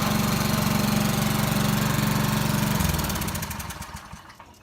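A push lawn mower's small engine runs loud and close with a steady, throbbing chug, then sputters and slows as it winds down toward the end.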